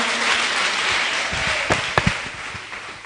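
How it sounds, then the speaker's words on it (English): An audience claps for primary school pupils at a peer education workshop, a continuous wash of applause with a few sharper claps and thumps near the end. "People, you clap for these people."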